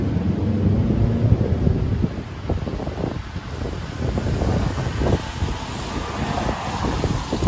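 Gusty wind roars and buffets the microphone outdoors on Fleet Street, London, on a wet winter day, a continuous low rumble with rising and falling swells.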